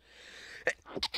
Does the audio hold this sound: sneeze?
yes